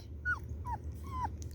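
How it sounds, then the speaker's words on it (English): A rottweiler puppy whining close by, three short high-pitched falling whimpers spaced evenly over a low background hum. "I hear you over there whining."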